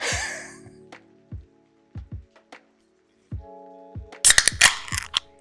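A few soft metallic clicks and taps, then a sharp crack followed by a bright fizzing hiss as a beer can is opened up close.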